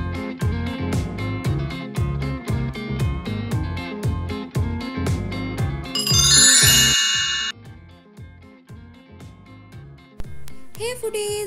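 Bright bell dings and chimes in a notification-style jingle repeat over a steady rhythmic music bed, with a louder shimmering burst midway and a final chime near the end, and no talking.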